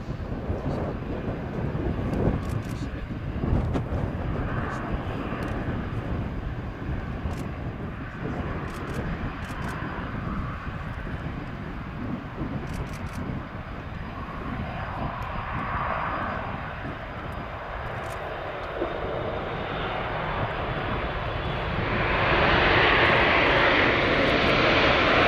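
A Boeing 787-8 Dreamliner turns final and lands at the Farnborough Airshow, its jet engines a steady broad roar that swells louder near the end, with faint talk over wind noise.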